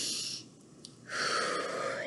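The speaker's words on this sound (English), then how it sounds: "take a deep breath" A deep breath: a short breathy inhale followed by a louder, sustained airy exhale, close and alone with no talking.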